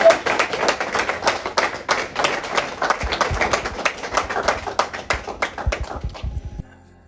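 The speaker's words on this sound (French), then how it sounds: "Sous vos applaudissements, s'il vous plaît, on va accueillir le président." Audience applause at a Congolese student event, welcoming the president onstage for an opening speech: dense, steady clapping from a large crowd for about six seconds, then thinning to a few scattered claps before fading out.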